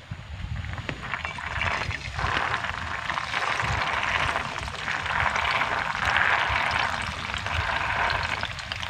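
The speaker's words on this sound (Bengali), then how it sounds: "এবার মটরগুলোকে তেলের মধ্যে আমি দিয়ে দেব।" Dried peas dropped into medium-hot oil, frying with a dense, steady crackling hiss that stays loud and even throughout.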